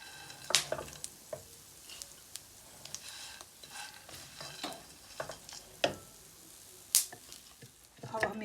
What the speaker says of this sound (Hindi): ये चिटकना शुरू हो गए हैं, इसका मतलब है ये पक गए हैं